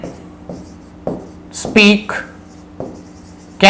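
Marker or chalk strokes on a board during a Hindi-language English grammar lesson, several short scraping bursts spaced across the moment, close and clear, with a brief voice fragment partway through.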